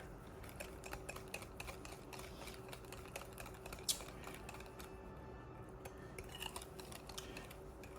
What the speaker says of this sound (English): So I just kind of break it up and whisk it until I don't see any egg anymore.